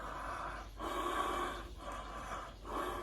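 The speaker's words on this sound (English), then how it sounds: "the Ujjayi breathing, which I just showed you, which is like this" Ujjayi breathing performed close up, slow throaty breaths with a hissing, ocean-like rasp, three long breaths separated by short pauses, no speech.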